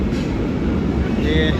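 A regional train on a German rail line rolls past with a steady, loud low rumble and rushing noise, close by, with faint squeals near the end.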